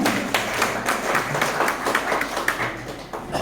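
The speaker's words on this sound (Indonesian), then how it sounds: "Boleh tepuk tangan untuk kita semua." A school audience claps together at a regional legislative commission event, a dense, steady wash of many hands filling the room at moderate loudness without clear breaks.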